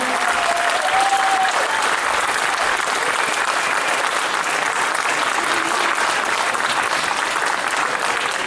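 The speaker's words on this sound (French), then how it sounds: "Si vous avez aimé, vous pouvez applaudir très très fort." Sustained, steady applause from an audience at a magic and hypnosis show, loud and even throughout with no talk over it.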